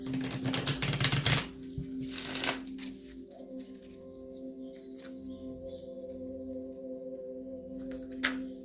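A quick riffle of tarot cards shuffling, a rapid papery clicking for a couple of seconds, followed by a quiet room with a faint hum.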